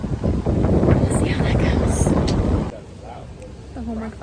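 Heavy wind in San Diego buffets the microphone with a low, roaring rumble under talking, then eases off as the voices continue more quietly.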